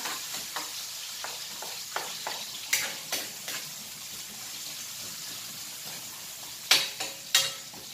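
Ginger sautéing in a pan gives a soft, continuous sizzle, broken by sharp scraping clicks of a utensil stirring against the pan, several of them bunched near the end.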